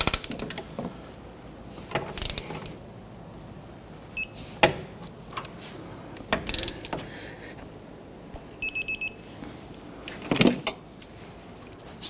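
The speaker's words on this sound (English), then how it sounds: "Go ahead and torque these bolts down to 152 foot-pounds" A torque wrench tightens the control arm bolts on a 1992-1996 Toyota Camry. It makes short ratcheting clicks and metallic clacks in scattered bursts, with a few quick clicking runs and some quiet stretches between them.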